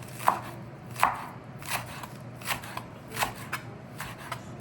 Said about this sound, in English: I want a fairly big dice on this one just because my onion is a bit small